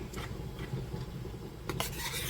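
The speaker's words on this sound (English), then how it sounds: "Stir it on up. You want to mix this in well." Spoon stirring a peach jam mixture with two tablespoons of lemon juice in a pot, giving soft scraping and rubbing strokes with a few brighter clinks, steady and close, with no talking.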